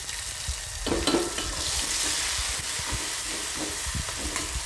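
Ground masala paste roasts in a pan for an akhya masoor amti, giving a steady close sizzle with frequent scraping and stirring strokes throughout.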